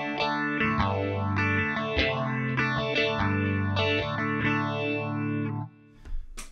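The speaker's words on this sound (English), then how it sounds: "Phaser, I use this quite a bit." Electric guitar through a phaser effect on a Fractal FM3 modeler, sustained chords with a steady sweeping, swirling wash rising and falling in regular cycles, loud and close, ending with a brief quiet tail.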